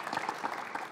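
Short burst of audience applause at a live podcast recording, a dense patter of clapping hands filling the room for under a second.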